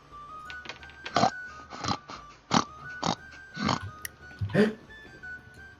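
A series of rough, snorting grunts from a wild boar, irregular bursts spaced about half a second apart, fairly close with quiet background.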